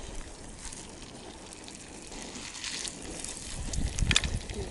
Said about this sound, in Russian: Сегодня очень сильный ветер у нас